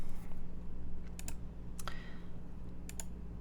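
Keys clack on a Haytco CAKE60 mechanical keyboard with Epsilon switches, a handful of sharp, separate clicks spaced apart over a steady low hum of background noise.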